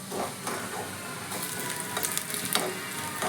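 Chillies, garlic and ginger frying in a pan, a steady close sizzle with scattered stirring scrapes and small crackles, no voices.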